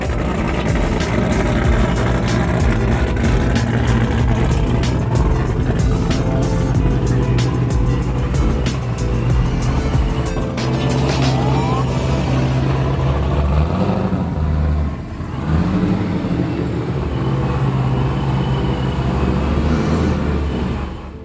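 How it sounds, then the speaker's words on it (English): A BMW E36 fitted with an LS V8 engine rumbles as it is driven slowly into a garage, with a steady loud engine drone, slight throttle changes and a brief dip in level partway through. "So we're gonna pull the car in and we're gonna get started putting these things on."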